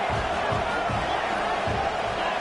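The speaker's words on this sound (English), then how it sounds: "the crowd really getting into it" Stadium crowd at a football game during a third-down play, a steady broad roar of cheering and noise filling the whole moment with rhythmic low thumps underneath.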